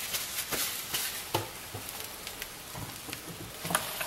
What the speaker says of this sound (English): Close it tight. You'll hear it sizzle.